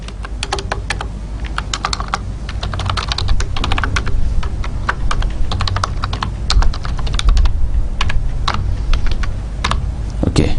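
Rapid, uneven keystrokes on a computer keyboard while a C program is typed, close and clear, with dense clicks and brief pauses throughout and no speech.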